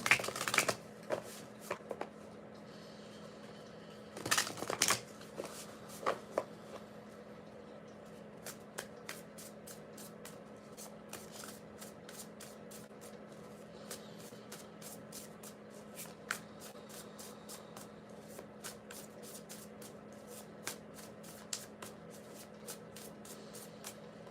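Cards being shuffled in quick riffling bursts, with brisk flurries early on and then a steady run of crisp flicks, no talking.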